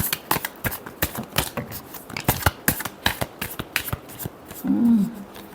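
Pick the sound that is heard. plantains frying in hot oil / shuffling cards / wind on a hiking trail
shuffling cards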